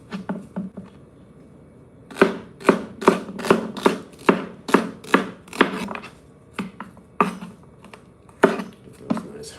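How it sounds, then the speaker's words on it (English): A knife chops celery and other vegetables on a cutting board, with a run of crisp, evenly spaced knocks close by, a few lighter taps before and after, and no talking. "We got a few more vegetables we got to cut up here."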